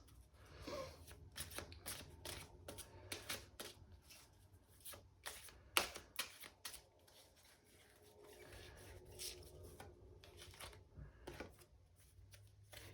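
A deck of oracle cards is shuffled by hand in close, quiet, irregular riffles and soft rubbing swishes, coming in uneven bursts.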